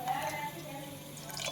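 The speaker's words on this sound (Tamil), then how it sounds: "கொஞ்சோண்டு தண்ணி ஊற்றிக்கிறேன்." Water poured into a simmering kadappa, a South Indian side dish for idli and dosa, giving a short splashy trickle close by, with soft kitchen hum underneath.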